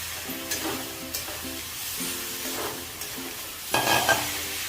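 Fried jackfruit pieces are stirred into a sizzling masala for kathal ki sabji, with a spoon scraping and clacking against the pan in several separate strokes over a soft, continuous fry.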